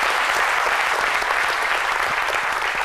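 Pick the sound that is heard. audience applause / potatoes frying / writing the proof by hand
audience applause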